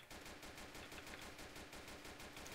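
Rapid gunfire in a police roleplay video game set in Hamburg, a dense, steady burst of shots running without a break at moderate distance.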